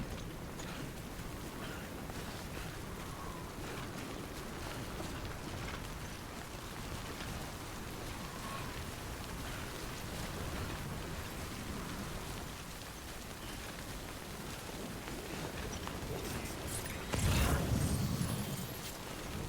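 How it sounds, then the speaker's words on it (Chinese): Steady rain patters and hisses on surfaces for a long stretch, with a brief louder gust or rumble near the end. "下雨了。"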